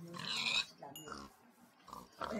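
A pig in the video game Minecraft gives a few short grunts and snorts in quick bursts, fairly faint and close, with no speech.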